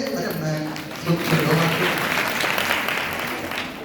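A church congregation claps during a Sunday sermon, a dense spell of applause mixed with crowd noise and some voices.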